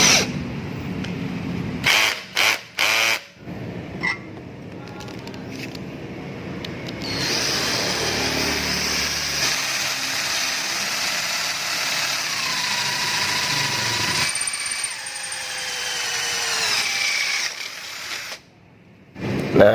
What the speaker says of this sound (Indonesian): Di sini akan saya coba untuk mengebor plat besi